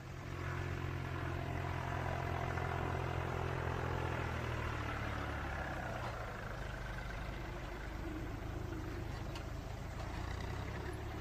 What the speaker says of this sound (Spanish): Si el tractor hace este cometido por ellas, ya ni siquiera les molesta el ruido del motor.